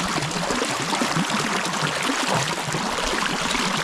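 River water flows and splashes steadily as someone wades through it outdoors near a village in Africa, a loud, continuous rushing wash with no speech.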